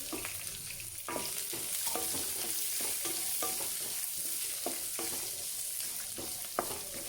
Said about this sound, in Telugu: ఒక నిమిషం అలా ఆయిల్లో వేయించుకున్న తర్వాత కట్ చేసుకున్న ఆనియన్ వేసేసేయండి